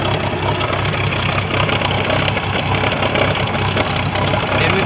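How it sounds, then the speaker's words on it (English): A Mercruiser boat engine with blocked-off exhaust ports idles continuously, a dense even rumble with a faint rhythmic knock and no voices. "we put the engine in it, it's running"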